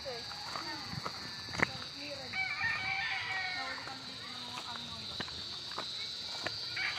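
Chickens at a coop give scattered clucks and a rooster-like call amid outdoor ambience, with faint footsteps and a steady background hum.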